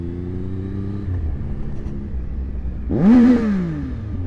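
A dirt bike idles with a low rumble, then takes one sharp, loud throttle blip that climbs steeply in pitch and falls back toward idle, with no voices.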